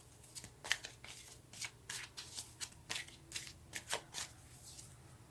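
Tarot cards are shuffled by hand in a quiet room, producing a rapid series of crisp riffling flutters and soft slaps close by, about a dozen bursts in quick irregular rhythm.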